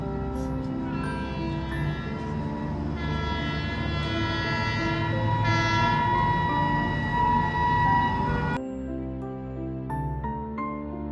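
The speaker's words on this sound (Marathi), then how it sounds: "बघा ही ट्रेन आली बघा" A train rumbles steadily with a loud, sustained horn blaring over it, ending abruptly as the horn cuts off and the rumble continues.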